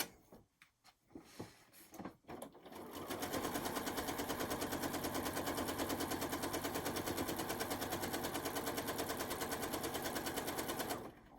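A sewing machine stitches around the outside edge of a quilt block: a few handling knocks and clicks first, then a steady fast mechanical rattle running unbroken for about eight seconds before stopping, close and clear.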